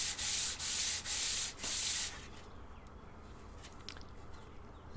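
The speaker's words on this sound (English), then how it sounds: "we can see it sanding off that edge and that end heavily" Sandpaper rubs across a wooden guitar neck blank in four rhythmic, raspy strokes, close and loud, followed by quiet background with faint bird chirps.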